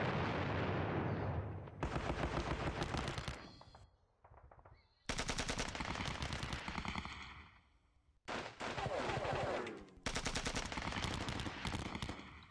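In a Normandy war game, loud, close machine gun and artillery fire rattle in long, dense bursts broken by brief pauses, with one short quieter stretch and no talking.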